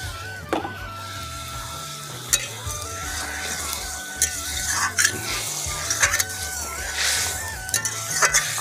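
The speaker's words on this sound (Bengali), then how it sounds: "খুব সুন্দরভাবে ফুটতিছে।" A spicy river-fish curry bubbles and sizzles steadily in a pan, with a few sharp clinks of a spoon against the pan standing out above the simmer.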